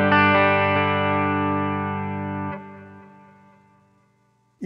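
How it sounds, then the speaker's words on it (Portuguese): Clean electric guitar tone through a Boss GT-1 with amp model, delay and reverb: one sustained chord rings out and slowly decays, with a brief second strum midway and a short pick noise at the end. "Imersão Clean é basicamente um amplificador, um delay e um reverb, mais nada."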